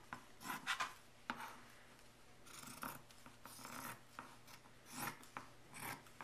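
Quiet, steady rasping of scissors cutting through quilting fabric along a marked line, with several short snipping bursts close by and no talking.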